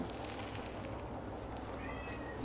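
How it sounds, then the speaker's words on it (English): A house cat meowing at a door, wanting to be let in; faint, indistinct calls over steady low room noise, with a brief higher tone near the end. "I honestly thought it was my dog trying to break down the door, and it's my cat."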